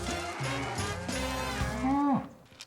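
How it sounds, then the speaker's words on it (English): A cow lets out a long, deep moo close by on a farm, with other cattle lowing around it and no talk. "There's a whole bunch of cows."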